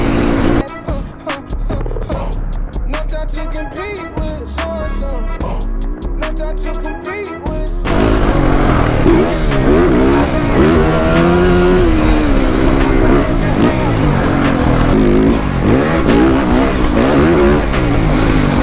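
A 2023 Yamaha YZ 450F motorcycle engine revving hard while riding, a loud, rising and falling four-stroke roar with gear-shift surges, first choppier and then continuous and sustained at close range.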